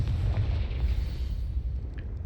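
A Confringo fire spell explosion in Hogwarts Legacy lands as a deep, rumbling boom that swells and then fades over a couple of seconds, with no talking.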